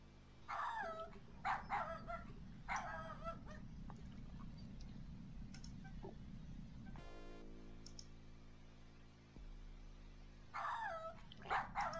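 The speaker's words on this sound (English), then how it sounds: "Oh, stupid dog." A dog in the video game King's Quest 7 barks and yips in short bursts at the start and again near the end, with a low musical game drone and a rising tone between, no talk.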